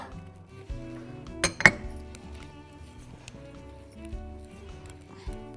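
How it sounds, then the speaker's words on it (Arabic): Egg yolks whisked with sugar and vanilla in a bowl, faint, irregular clinks and taps of the whisk against the bowl, with two sharper knocks early on over a quiet kitchen background. "هضرب صفار البيض مع السكر والفانيليا"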